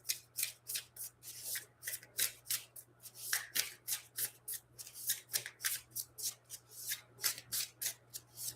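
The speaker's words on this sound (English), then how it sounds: "I will shuffle my deck here." Cards shuffle in a Pokemon TCG single-player video game, a quick run of crisp riffling bursts repeating steadily, fairly quiet and alone.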